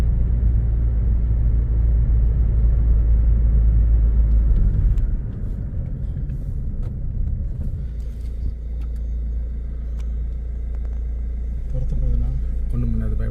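A vehicle on a night forest road between Masinagudi and Moyar gives a loud, heavy engine rumble for about five seconds, then the roar eases to a lower drone that lingers to the end. Voices talk over it.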